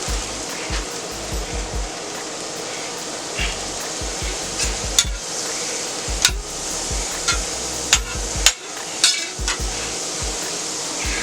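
Butter sizzles on a hot Steelmadeusa steel griddle in a steady, close frying hiss, broken by sharp metal clinks and scrapes from utensils against the flat-top.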